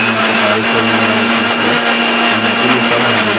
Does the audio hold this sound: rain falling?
no